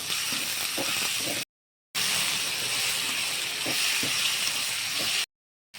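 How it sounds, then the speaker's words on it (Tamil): Ginger and garlic sautéing in a pan for prawn curry, a soft, steady hiss and sizzle with light stirring, cut by two short silent gaps. "இறால் குழம்புக்கு இஞ்சி பூண்டு வாழை போகிற வரைக்கும் வதக்கலாம்."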